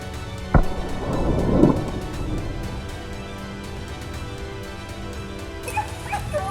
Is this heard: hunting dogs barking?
yes